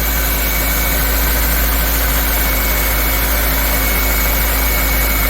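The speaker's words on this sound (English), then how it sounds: "it might be a little noisy because I got the engine running" The engine of a 2004 Toyota Corolla idles steadily, a loud constant drone and vibration with no change in pitch, heard close up throughout.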